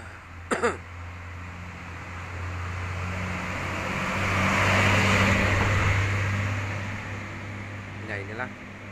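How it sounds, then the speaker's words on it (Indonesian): Roadside traffic noise of cars, trucks and motorbikes passing on an Indonesian street, a broad whooshing swell that builds and fades as a vehicle goes by over a steady engine hum, with a couple of coughs or throat clears. "berisik sama mobil, sama truk, sama motor"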